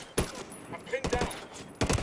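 Gunfire in a video game arrives as short sharp bursts, three or four quick volleys spaced out over a couple of seconds, close and fairly loud.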